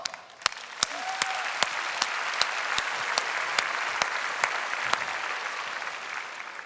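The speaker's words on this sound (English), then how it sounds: "Let's give them an applause." An audience at a talk applauds steadily, a dense wash of clapping with a few sharper individual claps standing out, sustained throughout.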